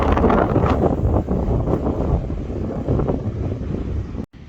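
Strong wind on the beach at Bournemouth and Sandbanks buffets the microphone in loud, rumbling gusts that rise and fall, then cut out abruptly near the end.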